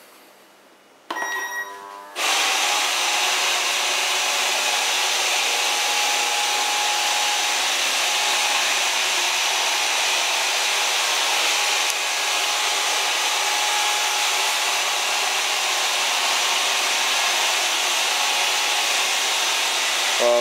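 An iWip500 robot vacuum running in zigzag mode starts up after a brief quiet moment, then gives a steady, fairly loud whirring hum that holds evenly to the end.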